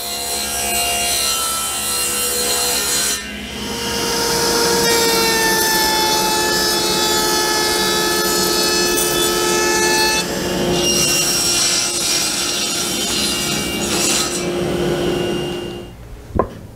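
Recutting a bevel on a metal side panel for a Hardinge Cataract lathe restoration: a loud, sustained grinding whine with ringing tones that lasts most of the clip and stops briefly partway through before starting again.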